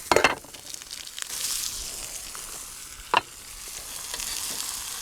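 Double cheeseburger patties fry in a very hot pan over an open fire, giving a steady close sizzle and hiss broken by a few sharp scraping clatters, with no talk.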